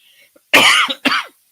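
A man breaks off a Filipino-language discussion of the 2025 national budget petition with a cough: two harsh, close, loud bursts in quick succession, with no talking over them.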